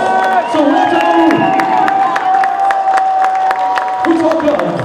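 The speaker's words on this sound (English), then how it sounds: "Give them a round of applause." Crowd applause and cheering for a Soweto futsal club at a National Futsal League event, a steady wash of clapping with whoops and shouts over a sustained tone, continuous for the whole stretch.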